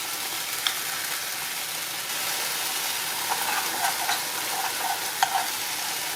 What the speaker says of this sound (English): Let that bubble away for a couple of minutes